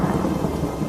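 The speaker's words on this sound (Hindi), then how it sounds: "अरे देखो, बारिश शुरू हो गई।" Rain begins in an animated story, with a loud, dense wash of rainfall and a deep thunder rumble filling the whole moment, and no voices.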